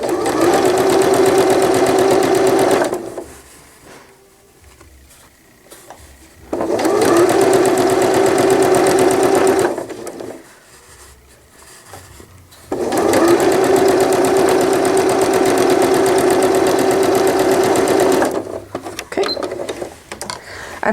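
A sewing machine runs straight stitches along a folded hem of a newborn gown, humming loudly in three long steady bursts separated by quiet pauses.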